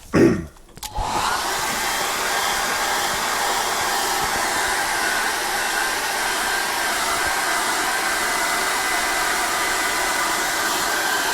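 A hair dryer blows steadily on an acrylic seascape painting, a loud, constant whooshing roar that starts after a brief handling clatter and holds close and unbroken to the end.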